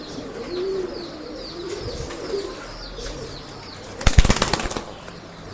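Breeding pigeons cooing softly in a loft, low throaty murmurs repeating in the background, then a sudden loud burst of wing flapping close by near the end.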